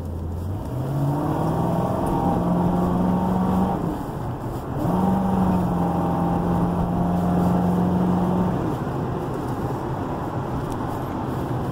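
A 2007 Crown Victoria Police Interceptor V8, rear-wheel drive, under way with its engine note climbing through two accelerations separated by a brief dip for a shift, steady road and engine rumble from inside the car.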